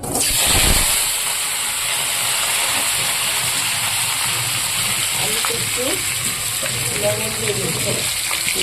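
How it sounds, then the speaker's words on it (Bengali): Cut potatoes frying in hot oil in a pan with bay leaf, dried chilli and whole cumin, a loud steady sizzle and hiss after an opening splash, with faint stirring throughout. "এবার আমি দিয়ে দেবো এখানে কেটে রাখা আলুগুলো ভেজে নেব"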